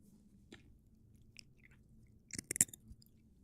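A dog crunches a hard treat, a quick burst of loud, crisp bites close by after a quiet stretch with a few faint earlier chews.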